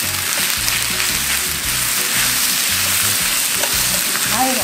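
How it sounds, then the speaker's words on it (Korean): Fish cakes being stir-fried in a pan give a loud, continuous close sizzle with a dense crackling hiss and a low, steady background hum underneath. "이렇게 볶아주다가 그대로 간장을 넣어주세요."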